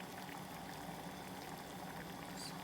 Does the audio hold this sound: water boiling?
yes